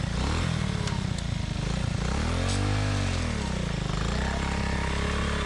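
An abandoned police motorcycle, recovered from a swamp, starts and runs loud and close, its engine rising and falling through a couple of rev swells over about five seconds, with a few sharp clicks on top.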